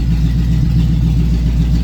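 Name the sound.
car engine revving lightly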